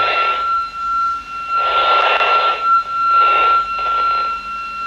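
A Baofeng UV5RH handheld radio receiving a signal, giving a rushing, noisy hiss in several bursts with a steady high tone running underneath, close and loud, with no speech.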